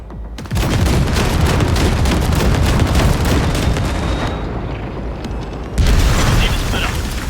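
A massive explosion blows open a large gate in Cyberpunk 2077, with a sustained roaring, rumbling blast that fills the scene loudly, a brief dip, then a second surge of booming debris and mechanical noise.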